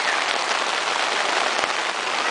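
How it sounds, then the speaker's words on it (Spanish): Steady rain falls at an outdoor zoo, a dense, even hiss of drops on surfaces with no pause, loud and close throughout, with one faint thud partway through. "se resguardan de la lluvia que empezó de nuevo"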